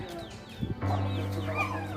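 Chicks clucking nearby in a garden, with a few soft peeps and a steady low hum underneath; short bursts over about two seconds.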